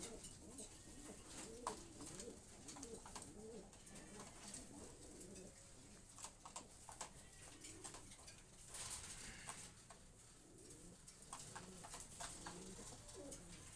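Sabji racer pigeons coo softly in low, rolling phrases that repeat through the stretch, with light fluttering and shuffling patter in a quiet loft.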